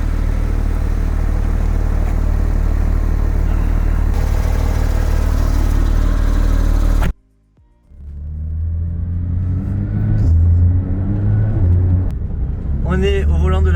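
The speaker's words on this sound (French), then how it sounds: "On est au volant de la 992 GT3." A Porsche 992 GT3 engine holds a loud, dense rumble, cuts out abruptly, then picks back up and climbs through rising revs, with people talking over it.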